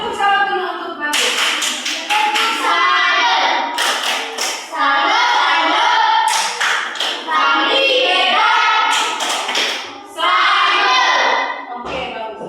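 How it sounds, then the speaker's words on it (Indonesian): Children in a maths classroom clap their hands together in quick, rhythmic bursts, several rounds of loud unison claps separated by short pauses, with a voice faintly mixed in. "Tepuk tangan dulu untuk bagus"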